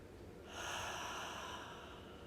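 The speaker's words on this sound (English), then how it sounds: "Breathing in through your nose." One slow, deep yoga inhale drawn in through the nose begins after a short quiet pause. It rises into a soft, airy hiss and is held smoothly to the end, close and alone with no talking.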